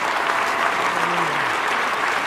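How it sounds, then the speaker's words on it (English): A congregation claps together in worship, a sustained, even wash of many hands with a faint voice murmuring underneath. "Let's give the Lord a clap"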